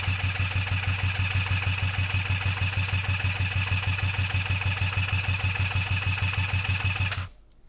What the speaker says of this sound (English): I'll probably crank it over 3 more times just like that